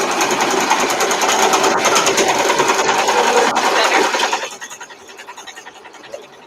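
A sewing machine stitches in a fast, steady whirring run at close range, then stops, leaving quieter handling sounds and light rustling afterward.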